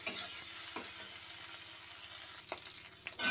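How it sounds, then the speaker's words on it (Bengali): Ginger paste sizzles steadily in a hot wok, where five-spice seeds and tomato are already cooking, with scraping stirs and sharper crackles near the end. "আদাটা বন্ধুরা ভাজা হচ্ছে"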